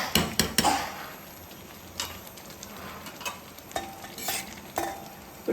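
Moringa leaf dal is stirred in a pot, with a few sharp metal clinks and scrapes of the spoon against the pot at the start and then quieter intermittent knocks over a low simmering background.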